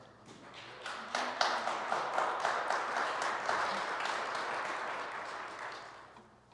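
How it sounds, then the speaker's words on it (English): At an annual parish meeting, attendees give a round of applause for the outgoing 2021 vestry, moderate clapping from a room of people that swells after a second, holds steady, then tapers off toward the end. "I'd like to just ask for a round of applause for our 2021 vestry"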